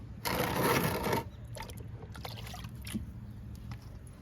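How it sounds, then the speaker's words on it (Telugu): Newly planted tomato, kanakambaram and marigold plants in a home garden being watered: a short, loud splash of water lasting about a second, then a softer trickle and light patter. "మొక్కలన్నిటికీ వాటర్ ఇచ్చేద్దాము"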